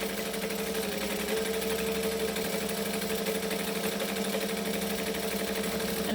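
A sewing machine stitches around an NCW bag by Emmeline at a thick seam, a loud, continuous rapid mechanical whir with an even motor hum throughout and no voices.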